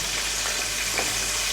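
Broasted chicken frying in hot oil: a steady, dense sizzle and crackle, close and continuous, without pause.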